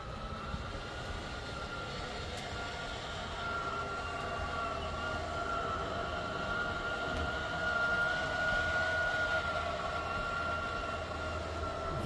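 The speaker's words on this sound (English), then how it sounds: "let's extend the slide first" A slide-out room extends on a 2015 A.C.E. 30.2 motorhome, its electric motor giving a steady, even mechanical drone with a faint whine that runs unbroken for about twelve seconds, close by and with no talking.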